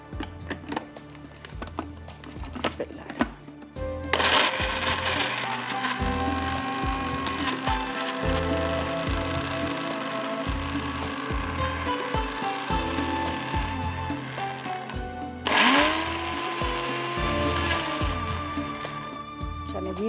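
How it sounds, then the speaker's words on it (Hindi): An electric grinder blitzing spices and nuts for Afghani tandoori chicken, a loud continuous whirring motor running for several seconds, pausing and restarting, after some short handling clatter at the start. "अब इसको हम पहले ग्राइंड कर लेते हैं।"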